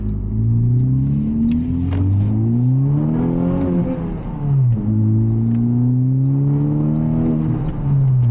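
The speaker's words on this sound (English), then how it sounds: "When I hit the gas, she just coasts to the left." A Honda car accelerating hard with torque steer, its engine note climbing in pitch, dipping briefly at a gear change, then rising again, loud and close throughout with no talking.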